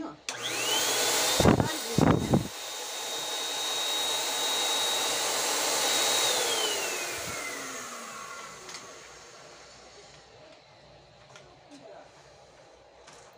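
A Paint Pro electric paint sprayer runs empty with a loud, steady whine that holds for several seconds and then drops in pitch as it winds down, with a few clicks and handling knocks near the start.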